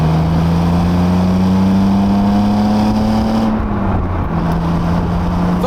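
A BMW Z3 roadster engine drones steadily while driving, a loud sustained hum that shifts pitch partway through as the revs change, with wind and road noise around it.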